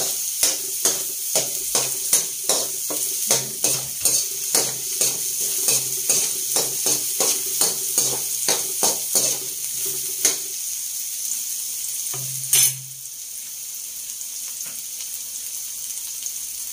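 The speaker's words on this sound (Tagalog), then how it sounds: "Lagyan na rin po natin yung sibuyas at saka bawang." Onion and garlic sizzle in a pan while a utensil scrapes and stirs in a quick regular rhythm for about ten seconds, then a brief clatter is followed by a quieter steady sizzle.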